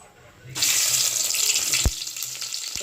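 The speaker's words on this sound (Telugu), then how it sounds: "ఆనియన్ వేసుకొని బాగా అయితే ఫ్రై చేసుకోవాలి" Chopped onions hit hot oil for a mutton curry: a loud, steady sizzling hiss starts about half a second in and continues, with a brief clank partway through.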